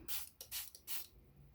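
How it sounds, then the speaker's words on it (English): Three short, close spray bursts from a spray bottle onto paper, each a crisp hiss separated by brief pauses. "you're going to spray your paper a little bit."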